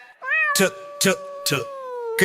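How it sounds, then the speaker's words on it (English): A cat meows in a rising, drawn-out tone, close and clear, while a voice repeatedly says a short word in rhythm over it in a children's alphabet song. "C is for cat, cat,"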